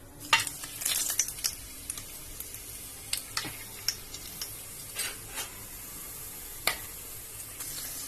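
Cinnamon, cardamom and cloves crackle in hot oil in a kadai for quail gravy, a faint steady sizzle broken by scattered sharp pops and ticks, close by with no voices.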